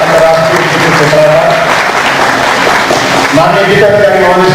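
Audience clapping at a university ceremony honoring a guest, loud sustained applause throughout, with voices speaking faintly beneath the clapping.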